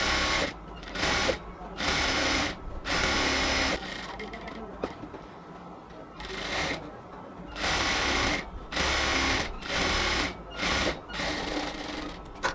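A sewing machine stitches the side seam of a cotton kameez in repeated bursts of fast, whirring needle clatter, each run lasting about a second with brief pauses between as the fabric is repositioned.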